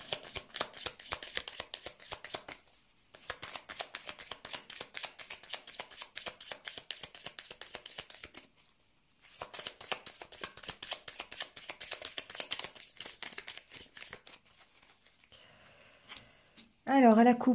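Tarot cards shuffled for a card reading, a close, dense riffling patter in long bursts with brief pauses between, then a voice begins speaking at the very end.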